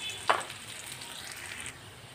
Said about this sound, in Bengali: এখানে আমি পেঁয়াজটা ভেজে নিচ্ছি